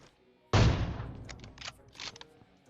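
Gunfire in the PUBG Mobile video game, with one loud close shot followed by a few fainter, scattered pops and brief noises fading over the next two seconds.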